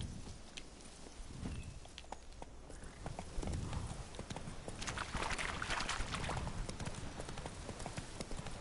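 Roach the horse runs in The Witcher 3, hooves pounding in a quick, steady rhythm, close by and fairly loud throughout.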